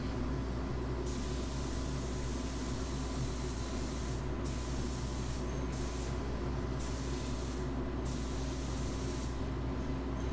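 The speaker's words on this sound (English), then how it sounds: "I'm using a vertical spray pattern where my fan is set up horizontally and I'm spraying it vertically up and down" A spray gun lays candy paint over a bare metal art sign, a loud, steady airy hiss running throughout with the high end cutting in and out as passes start and stop; no talking.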